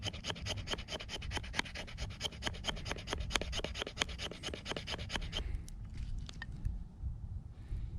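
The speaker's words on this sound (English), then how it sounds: "You get these little shavings like that." A knife scrapes resin-rich fatwood into fine shavings, a rapid series of close, rhythmic rasping strokes for about five seconds, then quieter rubbing.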